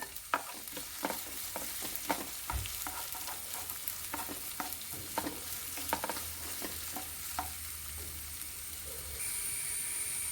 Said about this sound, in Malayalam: സവാള നന്നായിട്ട് വഴന്നു വന്നിട്ടുണ്ട്